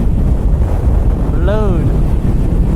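Strong, steady wind roars and buffets against the microphone while riding a Kawasaki Z900 motorcycle at speed through high winds, loud and continuous, with a brief rising whine partway through.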